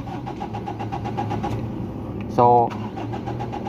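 A Mitsubishi Adventure engine cranks for a short burst with a rough, whirring starter sound that fails to catch, heard close under a steady background hum, with someone speaking briefly at the start.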